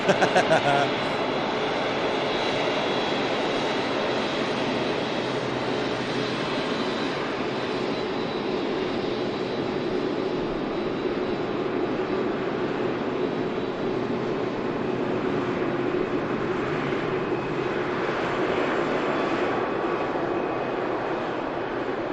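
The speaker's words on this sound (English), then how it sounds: "Emirates Airbus A380 on a departure." An Emirates Airbus A380 departs Manchester Airport, its jet engines producing a loud, steady broadband roar that holds for the full length with little change, close and dominant.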